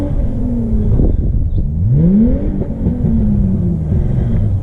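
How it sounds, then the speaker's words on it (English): A red Holden Commodore revs hard and speeds past nearby, its engine note climbing and then falling away in a loud, rough roar with steady street rumble. "Fuck's just up there in a red Commodore driving like a fucking idiot."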